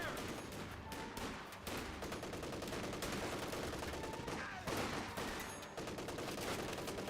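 Steady gunfire and sporadic bursts rattle through a Company of Heroes 2 battle as a rifle squad comes under fire, the shots dense and continuous at moderate volume, with occasional louder cracks.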